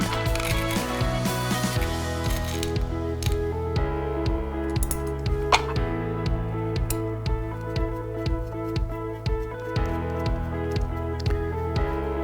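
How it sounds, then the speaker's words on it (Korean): Brass bolts driven in by a Phillips screwdriver while assembling a metal piece, a steady run of close, small ratcheting ticks and metallic clicks over a low hum. "십자 드라이브로 조립을 하게 됩니다."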